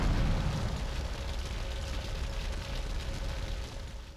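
A vehicle explosion in GTA Vice City Stories, a loud, roaring blast that starts strongest and settles into a sustained crackling, rumbling burn lasting several seconds.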